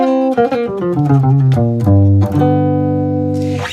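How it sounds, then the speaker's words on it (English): An amplified solid-body electric guitar plays a few quick notes that slide and bend, then settles into a ringing, sustained chord. "electric guitars mean plugging in and getting an electric sound out of that amplifier"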